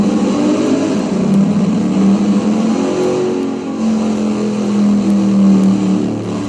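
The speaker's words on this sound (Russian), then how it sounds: "Звук мотора просто офигенный." A Chevrolet Camaro Synergy Special Edition engine revs steadily and loudly, its droning note rising and falling slightly over several seconds, with no voices.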